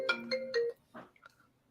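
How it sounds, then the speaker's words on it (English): A phone ringtone for an incoming call plays three bright, close electronic pulses, then a softer, trailing chime fades out. "Oh, phone call."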